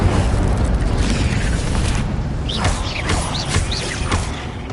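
The Incendio fire spell in the Hogwarts Legacy video game lands as a loud, dense blast, with rumbling booms and crackling bursts layered over sharp whooshing sweeps across a busy combat soundscape.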